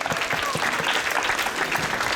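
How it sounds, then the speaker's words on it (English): Dense, steady applause from an audience cheering the yellow team's win at an abacus competition day, continuous and fairly loud throughout with no pauses. "Let's clap for yellow."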